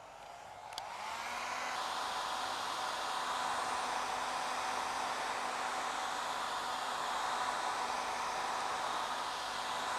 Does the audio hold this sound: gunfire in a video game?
no